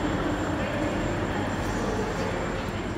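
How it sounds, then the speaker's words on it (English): Trains at London's Waterloo Station, a steady broadband rumble of rail carriages running continuously and moderately loud, with faint indistinct voices in the background. "There were more trains running"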